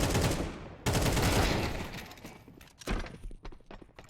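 Sniper rifle shot in a competitive video game match, a sharp loud blast that cuts in suddenly and rings out, followed by further gunfire and scattered thuds.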